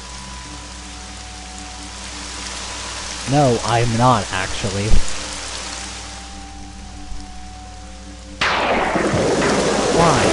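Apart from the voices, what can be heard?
rain falling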